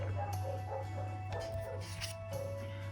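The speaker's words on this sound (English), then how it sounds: "I do apologise if you can hear dogs and beeping in the background" Dogs yipping and whimpering in the background of a new housing estate, faint and distant behind a steady low hum, several short high barks scattered through the stretch.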